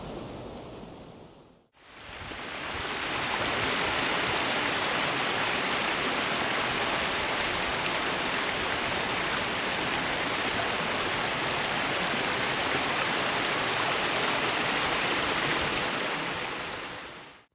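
Canal overflow water rushes through a guarded tunnel under a towpath into a river, a loud continuous roar of turbulent water that swells up after a brief dip and holds steady.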